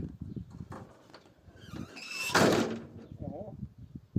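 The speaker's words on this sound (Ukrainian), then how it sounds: "Не зламай дверки." The cab door of a Kirovets tractor swings and clunks shut in one loud rattling burst midway, with people talking before and after.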